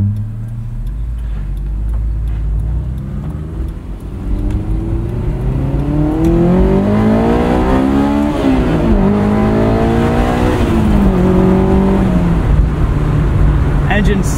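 2003 Honda S2000 with a modified exhaust and airbox accelerates through the gears, the engine note climbing loud and close, dropping at each shift and rising again, heard from inside the cabin.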